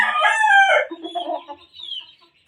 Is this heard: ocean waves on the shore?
no